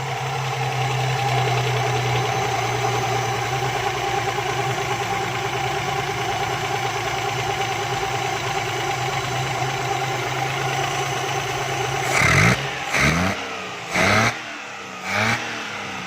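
A car engine idles steadily for a long stretch, then the revs are adjusted in a few quick bursts that rise and drop near the end, with no talking.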